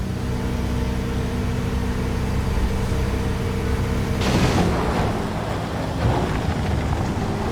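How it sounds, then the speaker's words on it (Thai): A working vehicle's hydraulic pump in Construction Simulator drones with a steady, tonal whine beneath engine noise, surging into a louder strained burst midway as the machine works hard, with no talk. "ฟังเสียงปั๊มดิ เวลารถมันออกแรงอ่ะ"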